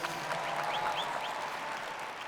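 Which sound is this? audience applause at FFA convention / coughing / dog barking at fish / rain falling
audience applause at FFA convention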